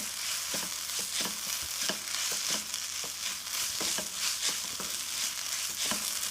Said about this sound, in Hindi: और थोड़ा सा हरा धनिया ऐड करेंगे। और इसको अच्छे से मिक्स कर लेंगे।